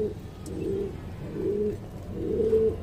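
Pigeons feeding at close range give three soft, low coos spaced about a second apart over faint background noise.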